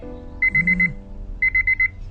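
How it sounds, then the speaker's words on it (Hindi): An alarm clock rings in two short bursts of rapid electronic beeps, four or five pulses each, clear and close in a quiet room. "ये अलार्म बंद करो यार"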